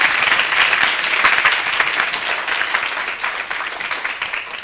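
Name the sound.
applause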